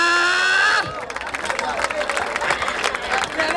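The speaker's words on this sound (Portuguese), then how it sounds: "Palmas pra essa batalha!" Crowd at a freestyle rap battle in Barueri, São Paulo, breaking into cheering, shouting and clapping after the rhymes end. The noisy, dense roar from a large audience follows a brief amplified voice at the start.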